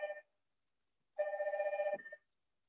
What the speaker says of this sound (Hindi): मेरे घर के फोन पे फोन आ गया।